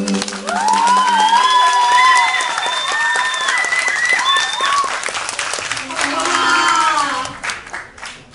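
Audience applause at a stage show, dense steady clapping through most of the stretch, with a loud voice and musical tones layered over it and a brief swell of cheering near the end before it tapers off.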